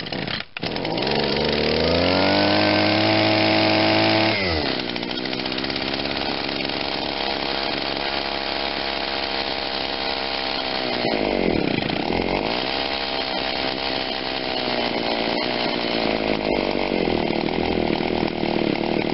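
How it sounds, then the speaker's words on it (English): A two-stroke engine on an Echo SRM2100 string trimmer with a replaced carburetor runs loud and close, revving high at first, then dropping to a steady buzzing idle with a brief rev dip midway. "I was trying to give it more gas to give it more of a two-cycling sound at the idle."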